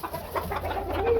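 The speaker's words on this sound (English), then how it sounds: "We have some bantam Cochins here" Bantam Cochin hens on a farm give soft, close clucks in a quick run of short notes lasting about a second, over a low background hum.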